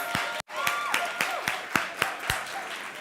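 An audience at a live tech and innovation event gives scattered applause that is close, with a few distinct loud claps spread through a short stretch after a brief dropout.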